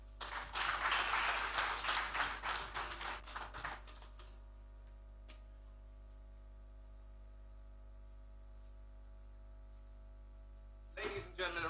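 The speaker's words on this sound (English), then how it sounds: "Ladies and gentlemen, a round of applause for Mr. Max Bunda." Audience at a business forum applauding, a dense burst of many hands clapping for about four seconds before fading into quiet room tone, with a brief second round of clapping starting at the very end.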